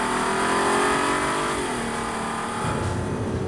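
An Audi TT V6 Quattro with a DSG gearbox accelerates hard, its engine note rising and dipping briefly as it shifts up through the gears, loud and continuous with no talk.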